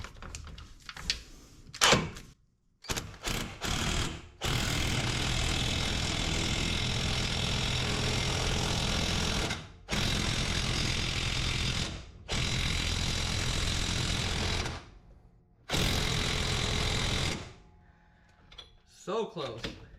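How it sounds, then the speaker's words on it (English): Impact wrench hammering a nut to pull a wheel stud through on a 1969 Plymouth Fury III, loud sustained rattling bursts of several seconds each, separated by short pauses and preceded by brief clunks, close up. "impact it in, it should pull that stud through"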